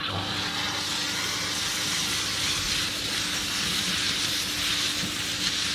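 A Karcher SC5 steam cleaner blasts steam to strip paint, giving a loud, steady, continuous hiss with a low rumble underneath and no talking.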